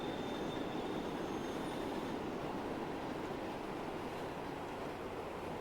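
A train running in the Transport Fever 2 game, a continuous low rumble of wheels and carriages with faint squealing, steady and moderately quiet throughout.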